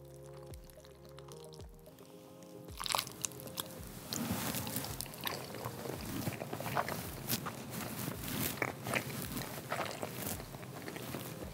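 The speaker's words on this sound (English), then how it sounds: "sorry for eating with my mouth full" Someone eating and chewing food close up, soft wet bites and mouth sounds over a low background hum, with small clicks and rustles throughout and no talking.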